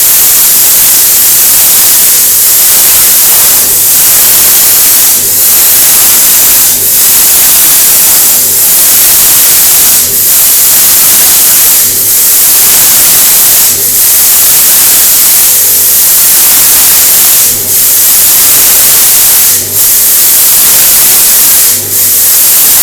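A fogger machine pump runs a cleaning solution cycle, giving a loud, constant spraying hiss with a steady pulsing rhythm every couple of seconds, unbroken and close.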